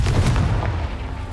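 A Confringo spell blast in Hogwarts Legacy: a short run of deep booming bursts up front, then a fading rumble.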